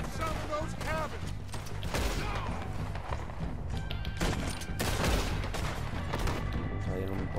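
Gunfire fills a first-person shooter video game battle at a cabin, with rapid shots, bursts and mechanical clatter layered through the scene while voices shout over the action.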